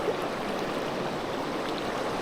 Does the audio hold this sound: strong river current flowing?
yes